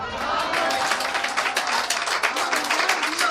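Audience at a Hindi poetry performance breaking into applause, a dense, steady crackle of many hands clapping together, close and fairly loud for a few seconds.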